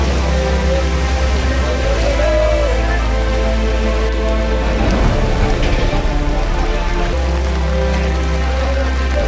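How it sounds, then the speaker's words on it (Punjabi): Heavy rain pours without a break over the main square of a town, a dense, loud, steady hiss of drops drumming on surfaces, with running water beneath it. "ਇਹ 5 ਘੰਟਿਆਂ ਤੋਂ ਮੀਂਹ ਲਗਾਤਾਰ ਪੈ ਰਿਹਾ"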